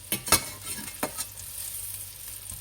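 Lamb rissoles and potato cakes fry in a pan with a steady close sizzle as they are flipped, with a few sharp scrapes and taps of a spatula near the start.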